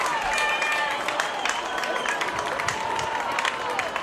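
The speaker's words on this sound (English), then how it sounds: "Crowd trying to make some noise to help out the Warriors offense," A high school football crowd at a Loveland vs. Lebanon game roars in a steady wash of cheering and clapping, with a play-by-play voice talking over the din.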